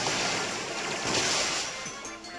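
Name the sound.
Water Gun attack in Pokemon Sun video game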